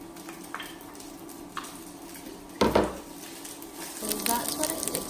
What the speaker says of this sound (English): What I'll do is I'll add my bacon again.